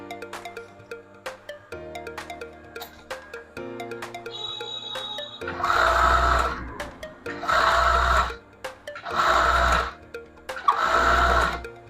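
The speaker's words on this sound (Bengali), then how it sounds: "এই দুইটা প্রসেসই এই ফ্ল্যাট লক মেশিন দিয়ে করা হয়" Flatlock sewing machine stitching the leg hem of leggings, a few short intermittent runs at first, then four loud sustained bursts of motor whir and rapid needle chatter at close range.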